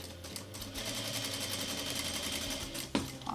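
A sewing machine runs steadily while stitching a mitred fabric corner, a close, continuous whirring drone that stops near the end with a single clack.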